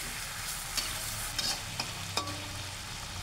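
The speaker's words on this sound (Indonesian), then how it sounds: "diaduk kembali agar si ayamnya tidak lengket di dasar wajan ya." Chicken frying in a wok over medium heat, with a soft continuous sizzle and a few quick scraping strokes of stirring, close and alone.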